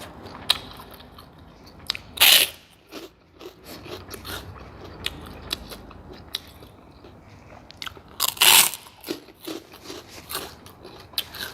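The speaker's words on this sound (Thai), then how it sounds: "แคบหมูซื้อมาทอดเองกรอบ สุดยอด" Crisp bites of homemade fried pork rinds eaten alongside a Thai pork noodle soup, heard as scattered crunchy chews with two loud close bites standing out, no talking.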